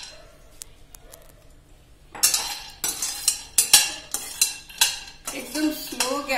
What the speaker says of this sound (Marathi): आता मी हे 200 ग्रॅम बदाम भाजून घेते।